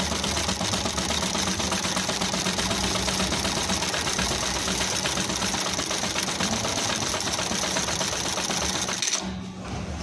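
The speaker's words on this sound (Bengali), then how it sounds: "এই মডেল আমরা এখন এই এমব্রয়ডারি করলাম বাটটেক মেশিন দিয়ে" A JUKI JK-T1900GHK-DII bartack machine stitching embroidery on fabric, running in a fast, continuous mechanical chatter close by before stopping abruptly near the end.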